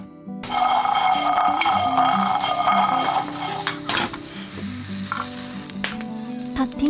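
Soybeans roasting over high heat in a frying pan, steady sizzling and crackling, with a utensil scraping and stirring, clinking against the metal now and then.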